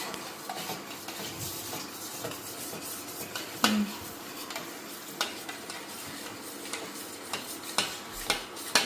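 A spoon stirs and mixes fruit salad in a bowl, with pomegranate among the fruit: repeated close scraping and clinking of utensil on bowl, with sharper knocks at irregular intervals and a soft wet mixing sound between them. No one talks.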